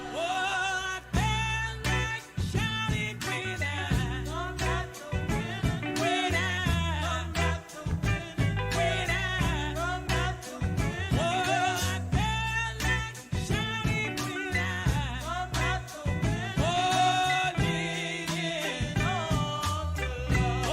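A song from Daptone Records, a full recorded performance with steady rhythmic beat, bass and layered voices playing continuously and loudly throughout, no talk over it.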